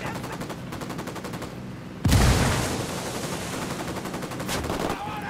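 A frag grenade in Ghost Recon Wildlands goes off as one sharp, loud boom that rolls into a long, noisy rumble, set inside a steady bed of rapid gunfire.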